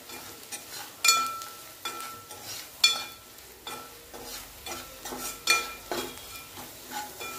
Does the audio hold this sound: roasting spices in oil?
yes